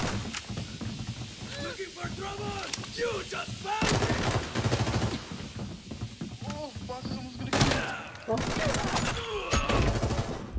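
Gunfire shooting bots in the video game Arena Breakout, with repeated bursts of automatic shots and single cracks across the whole stretch, mixed with game sounds while players talk excitedly.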